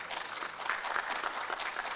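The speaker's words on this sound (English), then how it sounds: "Please, let's give both schools a round of applause." An audience applauds two competing university teams at a tertiary business plan contest semi-final, a steady moderate patter of clapping throughout without talk.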